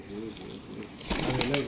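Pigeons at a loft cooing in low, rolling bursts close by, with a brief flutter of wings and a rise of activity toward the end, while voices murmur in the background.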